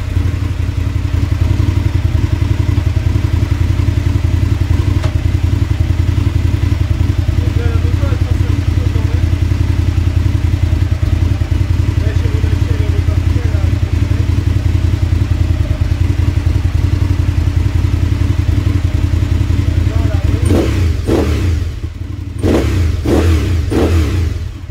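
A 2003 Aprilia RSV Tuono 1000 motorcycle engine idles steadily and loudly up close during a clutch bleed test, with someone speaking over the running engine and a few sharp clunks and clicks near the end.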